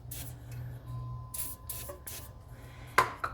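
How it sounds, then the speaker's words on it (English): Several short hissing bursts from a silicone spray aerosol can, close by, applied while replacing front bump stops on a 2004 Dodge 2500 diesel truck, separated by brief pauses, with a faint low hum underneath. "I'm just gonna loop that up with a little silicone spray."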